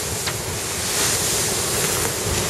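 A sailboat surfs down a wave in rough ocean water at about 22 knots, giving a steady loud rush of water and wind noise with a few brief splashes and no talk.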